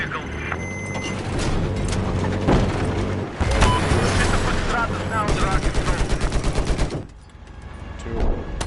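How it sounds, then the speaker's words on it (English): Battlefield 4 firefight with sustained automatic gunfire, rapid bursts and repeated shots layered over booms and vehicle noise, loud and dense, easing briefly before more fire; voices talk over the fighting. "Where are you shooting at?"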